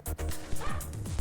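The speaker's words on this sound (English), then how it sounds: "Dog!" A dog in the Silver Thread game barks and yips in a few quick, close bursts, with a small whimper mixed in.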